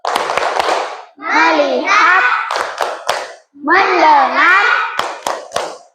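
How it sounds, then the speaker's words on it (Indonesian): A children's classroom group does a rhythmic call-and-response 'focus clap' during a teaching session, with bursts of sharp hand claps alternating with children chanting loudly in unison, close and lively. "Kita dulu tepuk fokus. Ayo, tepuk fokus."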